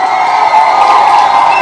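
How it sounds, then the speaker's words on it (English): A large crowd cheers and whoops loudly and continuously, a dense wall of shouting voices with some clapping mixed in. "Let's give her a huge round of applause."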